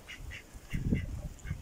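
A farmyard duck quacking at close range, several short raspy quacks in an irregular series.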